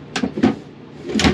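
Drawer or cabinet in a 1998 Dutchmen Classic 280SL travel trailer being worked, with a few short sliding knocks and thuds close by, spaced unevenly.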